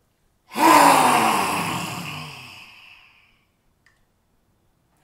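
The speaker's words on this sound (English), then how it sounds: "they loved to scare each other with the lion's breath" A single long, forceful lion's breath exhale in a kids' yoga session, tongue stuck out, a loud breathy roar that begins suddenly and fades away over about three seconds into silence.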